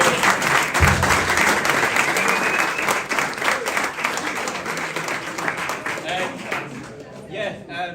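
An awards night audience gives a sustained round of applause, dense and fairly close, that thins out and fades toward the end with a few voices mixed in.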